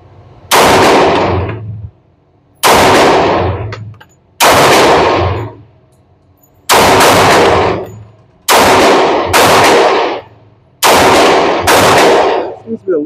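Six loud rifle shots fired at a target, evenly spaced about two seconds apart, each a sharp close blast with a brief decaying echo.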